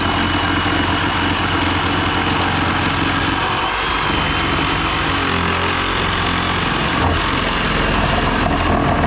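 A Flex cordless power tool cuts through three stacked boards, giving a loud, continuous motor drone that holds steady for several seconds with only small shifts in pitch and no talking.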